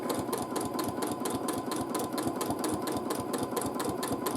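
A sewing machine runs steadily through free motion quilting, its needle hammering out a fast, even rhythm close up with no talk over it.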